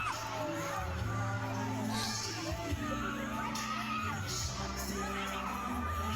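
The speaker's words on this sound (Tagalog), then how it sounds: "Grabe yung sigaw, David." A crowd at a Filipino entertainment event screams and cheers in a steady, loud roar of shouts and whoops that runs throughout, with people talking and some children's voices mixed in.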